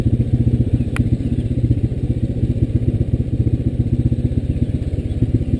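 A motorcycle rolls over rough old cobblestone, its engine thrumming close and loud under a steady rapid rattle and thumping from the uneven stones.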